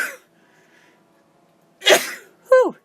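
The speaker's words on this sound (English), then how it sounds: "Oh, I'm going to sneeze." After near silence, one loud, close sneeze bursts out, followed by a short voiced exhale.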